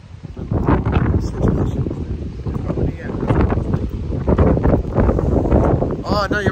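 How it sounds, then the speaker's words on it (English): Wind buffets the microphone outdoors in wet, rainy weather, a steady rumbling gust that runs throughout beneath people talking. "Seems a little bit windy."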